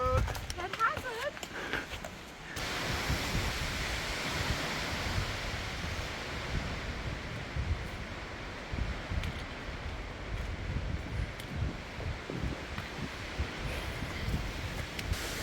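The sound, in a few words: strong wind near tree line on Katahdin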